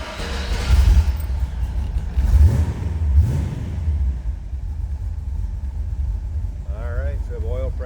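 A 1931 Ford Model A roadster pickup street rod runs close by after a cold start, settling into a steady low, loud rumble with a few swells, and a brief voice comes in near the end.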